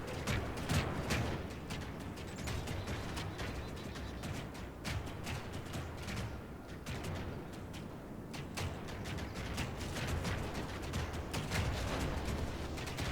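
Medieval 2 Total War battle with towers bombarding attacking troops: a dense, continuous barrage of overlapping impacts and clattering combat noise, steady and loud throughout with no clear pauses.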